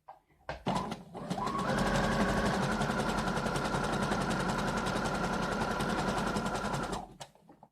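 Sewing machine stitching a red-edged appliqué onto fabric for a copied old house dress, running as one loud, steady mechanical whir of about six seconds with fast rhythmic needle chatter, starting and stopping with brief clicks.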